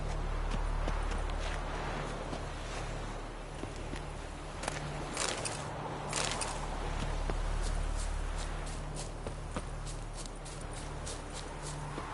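A horse gallops in The Witcher video game, its hooves clip-clopping in a quick, steady rhythm over continuous game ambience.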